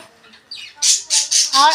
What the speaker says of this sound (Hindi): मेरी चिड़िया भी बोल रही है